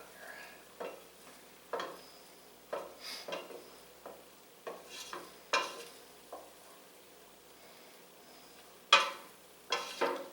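Butter melting in a pan while mac and cheese with Hatch chilis is made, with soft sizzling under scattered stirring scrapes and light clinks of utensil on pan, close and fairly quiet.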